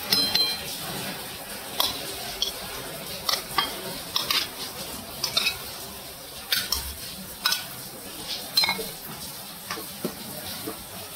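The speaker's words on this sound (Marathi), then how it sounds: "आता या आपण याच्यामध्ये ॲड करायचे आणि त्याला चांगलं परतून द्यायचं तेलामध्ये." Prawns are being sautéed in oil with masala as a spoon stirs them, sending regular clinks and scrapes against the pan every second or so over a low, continuous frying sizzle.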